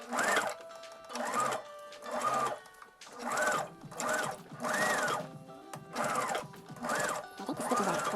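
Sewing machine stitching a headband, whirring in regular bursts of about half a second separated by brief pauses, close and clear with no talk.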